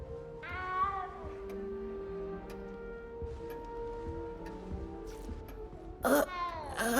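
Several cat meows from Hogwarts Legacy, a frightened little cat crying in drawn-out, wavering calls near the start and a sharp louder yowl toward the end, over quiet game ambience.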